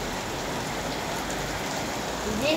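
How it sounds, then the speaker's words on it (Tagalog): Steady, continuous rain of moderate strength that has been falling for two days, a constant, even hiss of drops on surfaces with no letup, close by and uninterrupted throughout. "mula pa to kahapon ang tuloy-tuloy na ulan"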